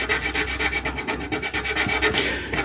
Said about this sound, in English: let me keep sanding this